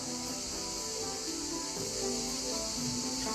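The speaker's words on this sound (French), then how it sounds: "Au bruit des cigales dehors qui chantent." Cicadas sing outside, a sustained high buzzing drone that stays steady and fairly faint throughout, with some low background sound beneath it.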